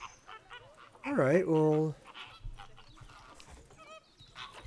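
Flamingos in the zoo-building game Planet Zoo let out a loud, nasal goose-like honk in a short rising-and-falling burst, followed by a sustained honk, over quiet background, with a person briefly talking.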